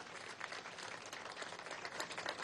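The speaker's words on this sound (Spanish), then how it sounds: "Un aplauso para nuestros bomberos y bomberas a nivel nacional" Crowd applauding firefighters at a ceremony for a restored fire station in Venezuela's Capital District, a steady wash of clapping throughout, fairly faint and distant, with no talk over it.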